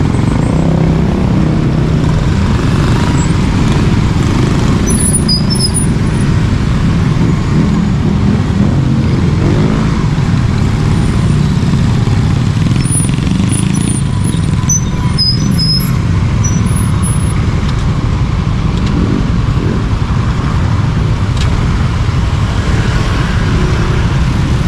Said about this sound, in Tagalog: Napaka-traffic dito, inabot na tayo ng gabi.